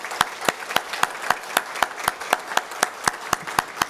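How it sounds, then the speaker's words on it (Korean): A church congregation claps together for a guest welcomed during a Sunday service, producing steady rhythmic claps, about three to four per second, moderately loud and close, with no talk. "우리 박수로 환영하겠습니다."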